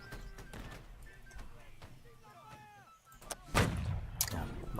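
A rifle fires at a British soldier in the Holdfast: Nations At War fort siege, a loud sharp shot with a booming tail near the end, followed by a second crack, while someone talks throughout over distant battle noise.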